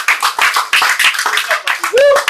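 Audience applause from a live broadcast, bursts of clapping mixed with voices, loud and close, with a brief high-pitched vocal or whistle-like tone near the end.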